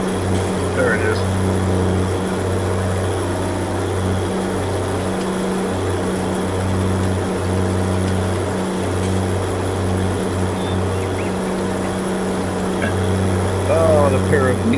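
Side-by-side tractors in a farming game keep up a loud, steady low engine roar with a droning hum and small rhythmic dips, running continuously, with brief speech faintly over it.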